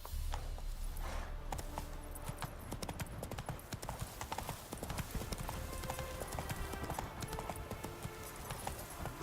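A horse gallops in The Witcher 3 video game, its hooves clip-clopping in a fast, steady, continuous rhythm, close and clear over faint background ambience.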